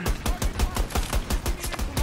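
Rapid bursts of LMG fire in single-fire mode from the Battlefield 2042 video game, about ten sharp punchy shots in an even, quick rhythm, loud and close.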